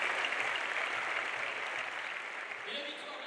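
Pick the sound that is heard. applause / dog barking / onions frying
applause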